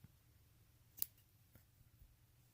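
Scissors snipping through yarn loops on a fluffy blanket yarn, a single crisp close snip followed by a fainter second cut, otherwise very quiet.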